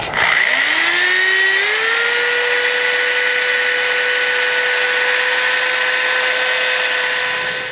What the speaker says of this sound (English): So I'll get the rest of this sanded off.